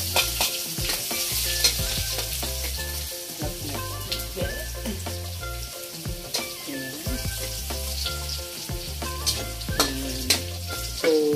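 Garlic sizzles steadily in hot oil in a pan for sinampalukan manok, close and continuous, with occasional scraping stirs and clinks of a utensil against the pan; music plays underneath.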